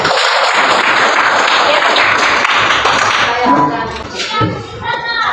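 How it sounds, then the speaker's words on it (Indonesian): Students in a classroom give themselves a round of clapping at the end of a religion lesson, dense and loud at first, then thinning into scattered claps with some voices. "Tepuk tangan untuk kalian."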